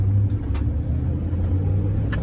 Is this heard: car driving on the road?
yes